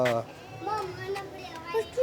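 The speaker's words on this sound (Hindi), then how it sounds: "ओए बकरा" A goat gives a few short, wavering bleats at close range, mixed in with children's voices talking and calling nearby.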